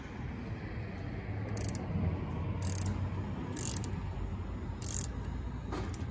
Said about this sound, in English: So let's go ahead and torque these down.